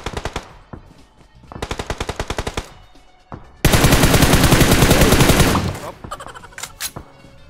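Automatic gunfire in PUBG Mobile during a long-range duel: two short rapid bursts, then a long sustained volley lasting about two seconds, followed by scattered single shots, loud and close.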